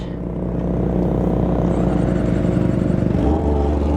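Kawasaki ZX25R motorcycle fitted with a Toce exhaust, its engine running with a loud, steady, deep rumble close by that shifts in tone near the end, with no talking.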